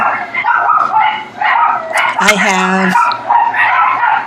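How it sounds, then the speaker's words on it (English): Dogs bark and yip repeatedly close by while a person speaks briefly over them. "And I apologize for the dogs barking if you can hear them."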